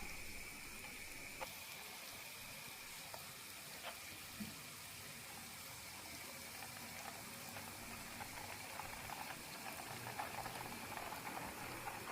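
Butter simmers into ghee as the water in it bubbles off, a faint, steady hiss with soft crackling pops throughout, no voices.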